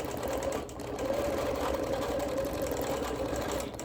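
A sewing machine quilts motifs in neon thread with a continuous, fairly quiet whirring hum and a steady mechanical buzz that keeps up for several seconds without pause.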